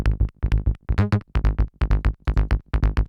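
Layered synth bass treated with Pultec-style EQ and soft clipping, playing a punchy rhythmic pattern of short, loud, distorted notes with a brief sustained pitch-bending phrase in the middle, alone with no voices.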